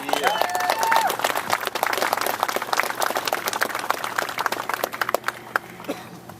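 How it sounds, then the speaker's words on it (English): Crowd applause at an outdoor political rally, loud dense clapping with some cheering voices and a brief whistle early on, thinning into scattered claps toward the end. "Give him a big round of applause."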